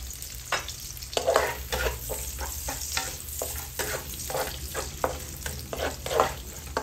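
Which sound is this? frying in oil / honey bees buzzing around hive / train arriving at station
frying in oil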